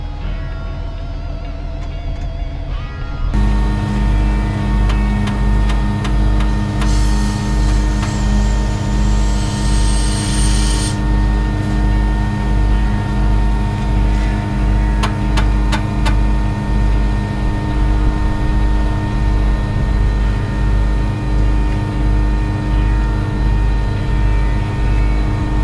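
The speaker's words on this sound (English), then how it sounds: "Air comes from the truck blower and then it transfers through that hose there, and then it pressures up the rear trailer now as I'm dumping the rear trailer" A truck-mounted blower drones loudly and steadily with a pulsing low rumble, pushing air through a hose to pressurize a pneumatic cement trailer as the rear trailer unloads; a faint hiss rises midway and fades.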